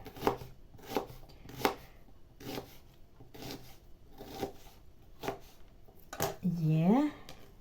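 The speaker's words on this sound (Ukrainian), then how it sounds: "а цю велику я розріжу на половинку" A knife cuts a large onion into halves on a board while making winter chicken shashlik, giving a series of about ten evenly spaced, crisp chops, followed at the end by a short stretch of voice.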